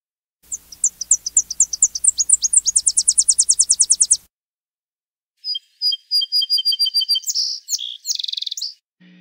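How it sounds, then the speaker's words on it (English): A song sparrow sings a clear multi-part song: a rapid series of rising notes speeding into a trill, a brief pause, then a second section of buzzy, sharper phrases, loud and close against a silent background. "For example, like a song sparrow song."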